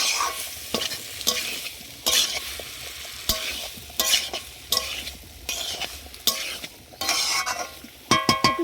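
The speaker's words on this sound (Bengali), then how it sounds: "এদিকে আমার হাঁড়িতে ভাত ফুটছে এদিকে সয়াবিনটা কষানো হচ্ছে" Soybean chunks sizzle steadily in a hot pan while a spatula scrapes and stirs in repeated bursts, with occasional clinks of metal.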